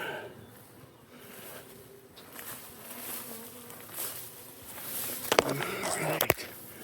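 A swarm of honeybees hanging in a tree being moved toward a hive makes a steady, moderate buzzing hum throughout, with rustling of branches and a few sharp knocks near the end.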